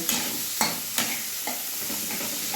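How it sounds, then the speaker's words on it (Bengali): Sliced onions with a pinch of salt fry in a pan for mutton curry, a steady close sizzle broken by four sharp scraping stirs of a spoon at roughly even intervals. "লাল লাল করে পেঁয়াজগুলো একটু ভেজে নেব"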